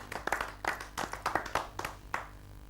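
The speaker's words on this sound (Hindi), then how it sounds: "जोरदार तालियों से आप स्वागत करें" A poetry gathering audience claps to welcome a poet, a small crowd's scattered, uneven claps in quick bursts that thin out toward the end.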